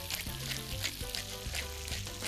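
Pancetta frying in a pan gives a steady close sizzle with crackling pops throughout, and faint background talk underneath.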